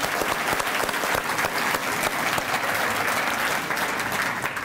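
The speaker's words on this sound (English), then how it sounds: "round of applause" Applause at a law school alumni association dinner and awards event, a room full of diners clapping steadily and evenly for several seconds with no talk over it.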